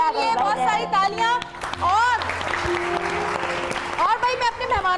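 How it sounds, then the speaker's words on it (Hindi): A studio audience applauds on a Hindi television show, broadband clapping swelling in the middle while a voice talks or sings over it before and after. "बहुत सारी तालियां।"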